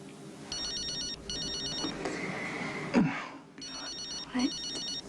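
A telephone rings in a repeated electronic trill, two bursts, then a pause, then two more, at moderate volume indoors, with a brief gasp and movement in the gap between the rings.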